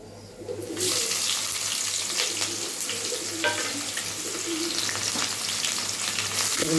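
Onions hitting hot oil with cloves, cardamom, shahjeera, bay leaf and biryani flower, a loud continuous sizzle with occasional stirring scrapes and faint bird calls in the background.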